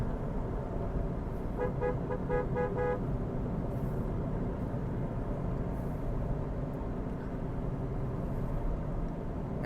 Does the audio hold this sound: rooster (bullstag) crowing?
no